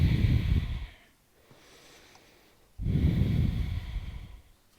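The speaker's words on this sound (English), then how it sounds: "Take a few deep breaths here." Deep, slow breaths taken while holding a low yogi squat: a long, loud inhale-exhale, a quiet pause, then a second full breath, close and alone.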